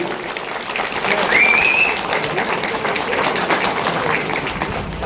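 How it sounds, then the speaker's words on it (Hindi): Applause from an audience welcoming newly sworn ward members at a municipal council swearing-in ceremony in Chaukhutia, a steady sustained clapping that fills the whole stretch at moderate loudness. "जोरदार ताली स्वागत करेंगे, अभिनंदन करेंगे"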